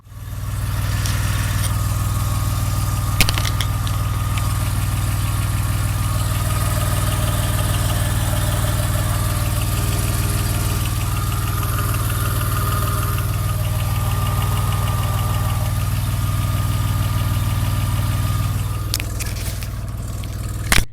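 A 1983 DeLorean DMC-12's V6 idles steadily, recorded up close in the engine compartment: an even, continuous low hum with faint mechanical ticking that holds throughout.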